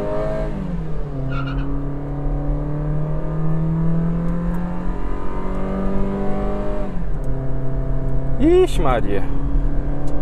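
A manual five-speed Polo 1.6 MSI car engine revs and accelerates through the gears, pitch climbing and dropping at shifts, with a brief tire squeal and a voice exclaiming near the end.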